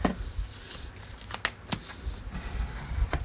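Scissors pressed and dragged along folded paper to crease a junk journal pocket, giving soft scraping strokes and light papery taps in a quiet, close setting.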